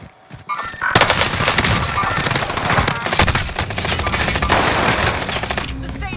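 Sustained automatic gunfire in a battle royale video game, dense rapid bursts rattling continuously for several seconds after a brief quiet start, loud and close.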